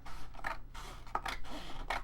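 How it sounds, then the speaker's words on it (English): Scissors snip strips off a craft piece for a notepad and post-it keeper, giving several short, close cuts in an uneven rhythm over a low steady hum. "I'm just gonna cut these strips off"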